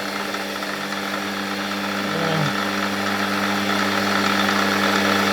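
A metal lathe runs flat out turning a small round brass bar, giving a loud, steady machine drone with a constant tonal hum and broadband whir that swells slightly midway, with no talking.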